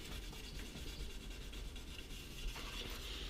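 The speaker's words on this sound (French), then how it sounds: "On frotte juste les taches et après on finit au chiffon pour enlever le reste parce qu'avec la paille, on a vite fait d'attaquer la peinture." Steel wool rubbing stains off the paint of a Peugeot 103 VS moped, a steady close scrubbing rasp that continues without a break and without talk.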